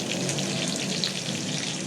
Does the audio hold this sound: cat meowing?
no